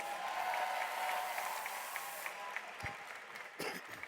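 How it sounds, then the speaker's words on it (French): An audience at a Gamers Assembly 2025 esports final claps in steady, fairly distant applause that fades toward the end, with a few louder claps near the close. "On les applaudit encore une fois, s'il vous plaît"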